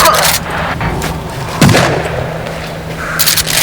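Shotgun firing in the video game Sons of the Forest: a single sharp, loud boom partway through, over a steady low game background with faint bursts of other noise.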